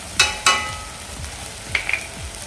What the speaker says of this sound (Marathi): आपण यामध्ये मसाले घालणार आहोत काश्मीरी लाल तिखट हळद गरम मसाला आणि लाल तिखट